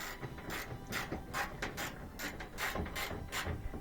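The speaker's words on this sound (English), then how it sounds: "It's a 1/2 inch socket, 1/2 inch bolt. I'm going to remove this one." A hand ratchet with a 1/2 inch socket turns a washer bolt on a Whirlpool laundry center, giving repeated short bursts of rapid pawl clicking in an uneven rhythm, close and alone.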